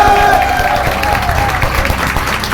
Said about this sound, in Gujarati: બધા તાળીઓ પાડજો આના માટે